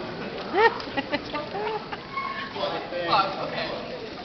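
A person imitates a clucking chicken with a series of short, rising vocal clucks in the middle of a floor at a Marine Corps ball, mixed with laughter and chatter from those nearby.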